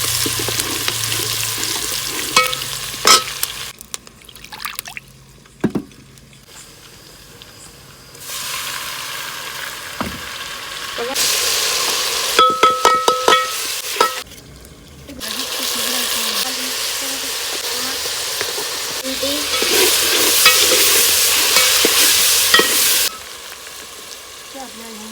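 Ginger garlic paste fries and gets stirred in a pan in a home kitchen, a loud hissing sizzle broken by spatula scrapes and clanks, with pauses and a quieter stretch where tap water seems to run.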